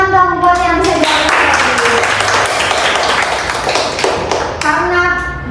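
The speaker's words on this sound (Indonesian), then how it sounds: "Oke, tepuk tangan dong buat yang bisa jawab." Schoolchildren clapping in a classroom for classmates who answered a quiz, a loud burst of close, bright hand claps that swells and fades, with children's voices and a chant heard before and after.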